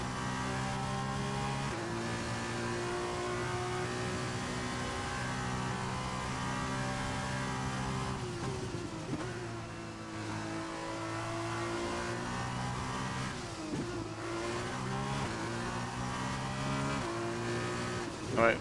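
An open-wheel race car engine from a Formula racing video game, set at the Great Britain circuit, drones steadily at moderate revs, with pitch shifts as the car changes gear, under intermittent commentary.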